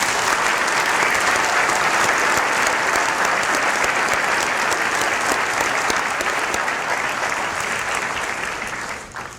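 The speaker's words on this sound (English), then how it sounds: "I ask that you join me in applause to acknowledge their hard work and their many accomplishments" Sustained, dense applause from a large commencement audience honoring a graduating dental medicine class, loud and steady throughout before tapering slightly at the end.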